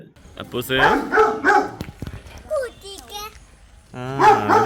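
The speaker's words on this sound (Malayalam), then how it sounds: "ആ നായ കൂട്ടിലേക്കാണ് അത് കൂട്ടിലല്ലേ" A caged dog barks in a few sharp, nearby yelps and short bursts, mixed with a person speaking on a rural property near a medical college in Chittur, Vilayodi.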